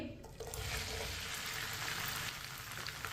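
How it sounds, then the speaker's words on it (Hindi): Cut okra hisses and sizzles steadily in hot oil over a medium flame, a dense continuous frying crackle that starts abruptly and holds loud and close throughout, with no voices. "ऑयल को मैंने अच्छी तरह गर्म कर लिया है। कटी हुई भिंडी डाल लेंगे।"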